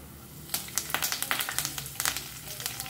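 Curry leaves dropped into hot oil with lightly browned fried garlic crackle and sizzle in a quick burst of close, sharp pops that settle into steady frying, with no talking.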